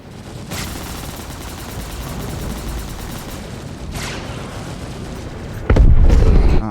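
Continuous weapon fire from the Esperia Glaive in the video game Star Citizen, a dense, loud, rumbling barrage with a few sharper blasts and a heavy boom near the end.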